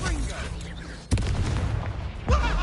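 A Bombarda blasting spell in Hogwarts Legacy goes off as two sharp, booming explosive bursts about a second apart, loud and close. Game sounds and background noise run continuously underneath.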